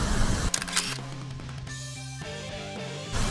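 A Minolta X700 film camera fitted with an Auto Winder G fires its shutter with a sharp click, followed by the motorized winder's whirring film advance in stepped tones, close and fairly quiet with no talking.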